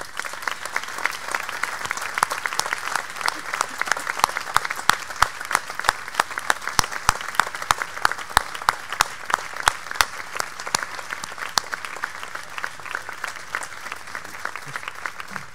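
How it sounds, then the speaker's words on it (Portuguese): An audience at a municipal band concert applauds the musicians' families, a long, steady wash of many hands clapping with scattered sharper claps standing out throughout. "Para eles, um grande aplauso."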